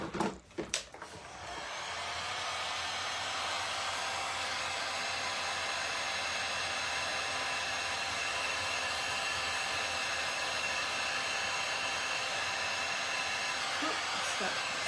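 A hair dryer blows steadily on freshly painted candy apple red on a tray, a loud, even whir that starts after a couple of seconds of handling noises and runs continuously.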